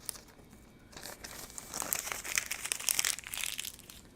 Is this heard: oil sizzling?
no